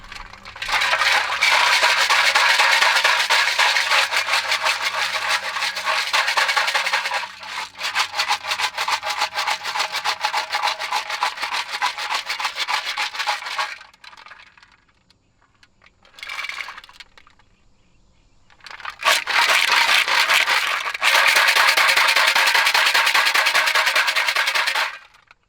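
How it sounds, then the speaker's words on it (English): A metal fuel tank from a 1976 Honda Z50 mini bike tumbles in a rotating tumbler, giving a loud, continuous gritty rattling and scraping. It cuts out briefly twice, then resumes at full volume. "Our fuel tank's been out here spinning around for about an hour."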